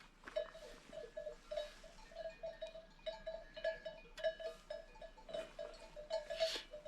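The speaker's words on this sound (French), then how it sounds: "ce que vous entendez, je vais essayer de vous montrer, mais il y a des brebis partout autour de moi" A flock of ewes spread all around across dry, unfenced mountain country in Spain, with repeated bleats coming from many directions, some near and some farther off, over a steady background jingle of bells.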